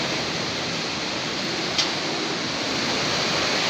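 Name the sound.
strong whistling wind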